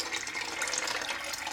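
Water pours from a tap to fill a kettle for brewing French press coffee, a steady close splashing flow with no talking.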